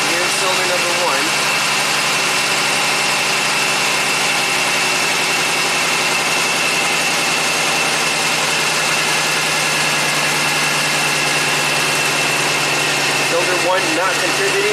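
A 1990 Buick Regal V6 with severe low power idles during a cylinder contribution test, a loud steady drone with a rough, shaking undertone that runs unbroken throughout.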